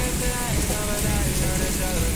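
Heavy rain pours down in Jammu, a dense steady hiss of drops drumming on surfaces, loud and close with a few tonal traces mixed in.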